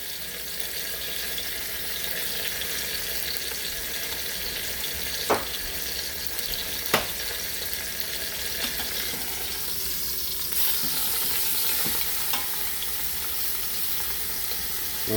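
Pot roast searing in a pan with rosemary and garlic, a steady broadband sizzle throughout with a few sharp pops and clicks from the pan.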